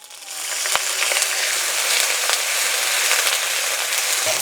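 Coriander-cumin paste and a splash of water go into a hot pan for a matar paneer gravy, giving a loud, steady, dense sizzle that rises quickly at the start and holds, with a few small clinks along the way.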